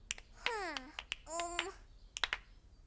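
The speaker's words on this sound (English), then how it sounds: "I want you to clap your hands with me as I snap my fingers" A steady run of sharp, crisp finger snaps in a children's music play-along, spaced about half a second apart, with high sliding vocal-like tones rising and falling between them.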